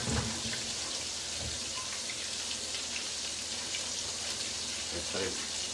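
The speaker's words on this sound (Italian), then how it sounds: "il pesce che frigge" Fish frying in a pan makes a dense, steady sizzle and crackle that stays close and even for the whole stretch.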